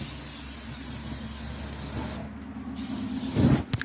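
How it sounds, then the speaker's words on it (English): A steady aerosol cooking spray hisses continuously onto grill grates, pausing briefly before a louder burst near the end. "I'm gonna take this cooking spray and just kind of spray the grates"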